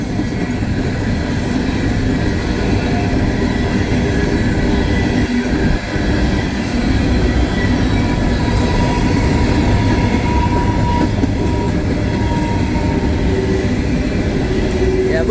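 A Norfolk Southern coal train of black three-bay hoppers rolls past close by, a steady loud rumble of wheels with clickety-clack over the rails and faint flange squeal, continuous throughout.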